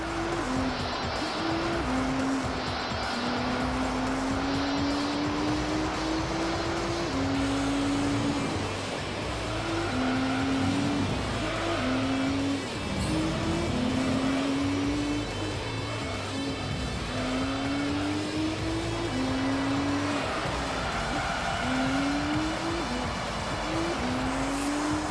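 A RUF CTR2 Porsche 911 in the racing game Gran Turismo 3, its engine screaming loudly and climbing repeatedly through the gears with short dips at each shift, steady and continuous with no talking.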